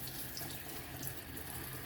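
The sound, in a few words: water from tap washing plantains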